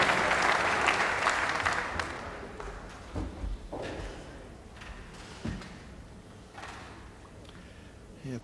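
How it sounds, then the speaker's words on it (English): England international teammates applauding at a ten-pin bowling match, a burst of clapping that fades over several seconds, with a few thuds and scattered claps afterward in a large hall. "His England international teammates applauding."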